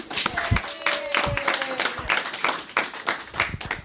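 Scattered hand claps from a small group after a presentation at a community budget consultation, uneven and moderately loud, with some background voices and a faint tone running through.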